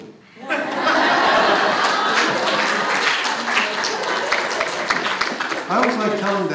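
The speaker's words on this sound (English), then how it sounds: "I always get applause from half of the group" An audience at a community talk breaks into sustained applause after a joke, with dense clapping mixed with chuckles and laughter running several seconds before fading at the end.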